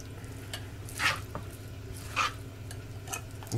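Sliced beef being stirred into a marinade for a rice and sautéed vegetable dish, with soft wet squelching strokes and a few louder scraping swirls against the bowl, close and fairly quiet.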